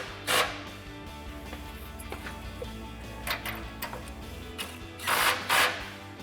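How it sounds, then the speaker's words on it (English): A ratchet with a 10mm socket tightens the exhaust hanger bolts on a 2021-2026 Ford Bronco during a Magnaflow cat-back install, giving close, irregular mechanical clicking in short bursts with louder clatter near the start and end. "now we can tighten up the two 10mm on our hanger using our 10mm socket"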